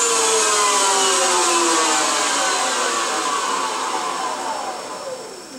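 A CNC lathe spindle whirs at high speed, a loud continuous whine with tones that slowly drift downward as it spins down, close and alone, fading slightly toward the end.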